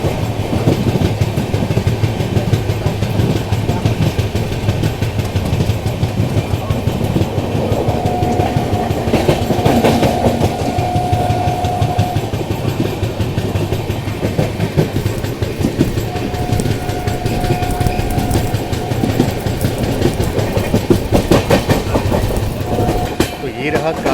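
Bhubaneswar Duronto Express running toward Kanpur Central, heard from aboard: a continuous rhythmic clickety-clack of wheels over rail joints with a steady rumble, plus brief tonal whines, loud and close, a voice faintly under it.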